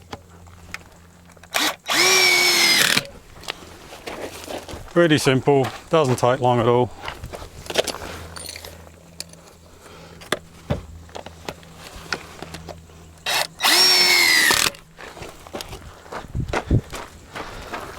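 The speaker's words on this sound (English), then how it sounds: "And don't these drill-in pegs make life so much easier?" A power drill whirs in two loud bursts, driving drill-in tent pegs into the ground at a campsite, with a person talking briefly between the bursts and outdoor footsteps around.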